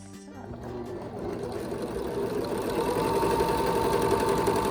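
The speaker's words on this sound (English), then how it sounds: "run it through the serger and we will be ready to finish up" A serger overlock sewing machine stitches fabric for a scrub cap, a fast steady mechanical whir that starts up and builds into a continuous close hum.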